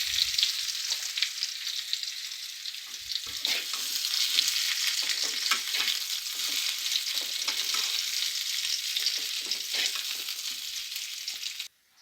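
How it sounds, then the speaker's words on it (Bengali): Potatoes frying in oil in a pan, a continuous bright sizzling hiss with small crackles and occasional stirring sounds, fairly close and steady until it cuts off at the end. "দিয়ে আলুগুলো আমি ভালোভাবে ভেজে নেব"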